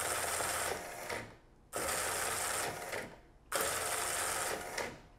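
A Remex RRS7155BA1 punched tape reader's motor drives the tape in three loud, even bursts of rattling mechanical whirring, each about one and a half seconds long and split by brief quieter gaps, with no voices.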